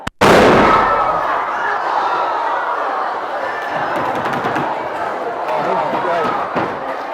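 A balloon bursts with a sudden loud bang at a chemistry show lecture, followed by a long echoing roar and crowd noise in a large hall, with voices talking.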